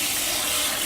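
Cool tap water runs steadily over hard-boiled eggs in a sink, a brief, even hiss of flowing water close by.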